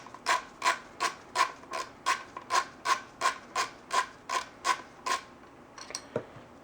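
Screw being turned out of a stock handguard on a Saiga AK rifle: a dozen evenly spaced squeaky creaks in a steady rhythm, close and moderately loud, ending with a few small metallic clicks.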